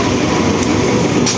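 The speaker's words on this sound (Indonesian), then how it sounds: "Kereta api Progo dari stasiun Pasar Senen tujuan akhir stasiun Lempuyangan melintas langsung stasiun Yogyakarta" The Progo express, hauled by a CC201 diesel locomotive on the Pasar Senen to Lempuyangan run, passes straight through Yogyakarta station on double track with a loud, close, steady rumbling roar and no voices.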